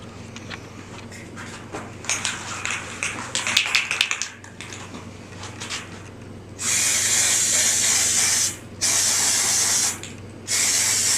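An aerosol can sprays light coats of paint onto a 3D printed Infinity Gauntlet in a garage: a few faint clicks and rattles first, then three long, loud bursts of hiss with short breaks between them.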